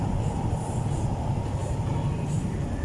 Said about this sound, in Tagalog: Yan po yung MRT.